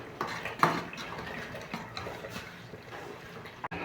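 A pot of spices for chicken curry is stirred and fried, with metal utensil scrapes and clinks against the pot over a low sizzle, fairly quiet and close.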